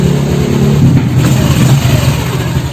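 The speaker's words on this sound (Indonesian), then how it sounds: "Sekarang kita coba hidupin, kira-kira suaranya adem atau enggak gitu ya." A Honda Vario 125 scooter engine fitted with a bore-up piston starts and revs, a loud, steady mid-pitched drone that rises and swells after the first second and holds strong throughout.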